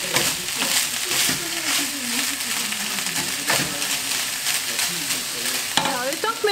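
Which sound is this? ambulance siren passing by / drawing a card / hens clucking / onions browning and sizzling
onions browning and sizzling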